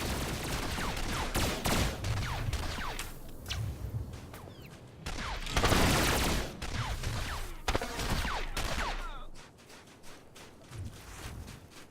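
Rapid blaster and gunfire from combat against enemies on Hoth in Star Wars: The Old Republic, a dense fusillade of sharp shots and zips, loud and sustained, easing off near the end.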